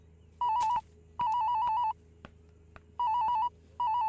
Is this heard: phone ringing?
yes